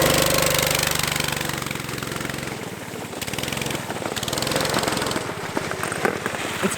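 Engine of a modified Barbie Jeep ride-on runs while being driven, a rough, rapid, knocking chatter that stays loud and close. The throttle surges and eases in uneven pulses, with no talk.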